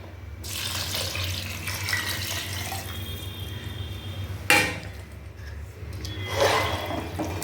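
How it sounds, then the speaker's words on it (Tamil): Water pours steadily into a pot of rice for tomato rice, a continuous splashing rush with a brief clink partway through, close by. "இப்போ தண்ணி ஊற்றியாச்சு"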